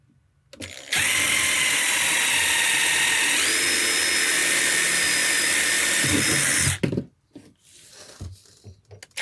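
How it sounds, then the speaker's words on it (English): An impact drill bores a pilot hole for about six seconds at a steady, loud whine, the pitch shifting partway through, then stops, leaving a short clatter and quiet room tone. "And then we're just gonna drill a pilot hole."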